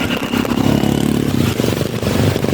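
A motorcycle engine revs loudly and close by while struggling through flooded roads in Montalban, a rough rattling drone that surges and holds with a clattering mechanical edge.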